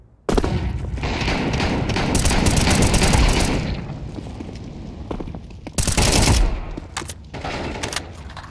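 Dense, loud bursts of rapid gunfire in Counter-Strike 2 crackle continuously, easing off then flaring again in a heavy volley before tapering.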